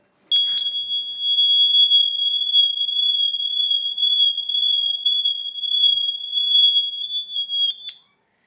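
A piercing high buzzer tone drones for several seconds as the buzzer is swung around, its loudness wavering slightly as it moves, then stops abruptly.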